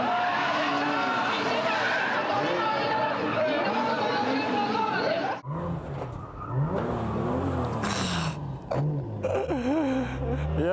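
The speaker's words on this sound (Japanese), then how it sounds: "ウエットならまだしもドライでこのスピン" A Toyota Aristo drift car spins out on a dry Ebisu Circuit course during a D1GP event, its engine revving and tires squealing and skidding, with a commentator talking excitedly over the noise.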